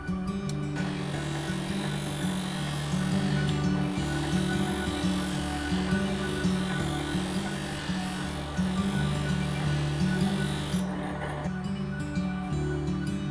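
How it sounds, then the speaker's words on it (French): A felt polishing disc buffs a knife blade with polishing paste for a folding knife, giving a continuous loud motor hum and buzzing whir with slight pulsing as the blade is pressed. "Donc moi cette étape là je la remplace avec mon disque en feutre."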